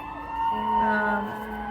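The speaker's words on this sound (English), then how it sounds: "Fire truck." A fire truck siren wails outside as the truck passes, a rising and falling tone heard at moderate distance, steady for under two seconds with no voices.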